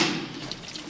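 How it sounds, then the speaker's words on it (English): Water pours into a small electric kettle or tea appliance, a steady close splashing hiss running the full second with slight fluctuations and no talk. "Pour water inside."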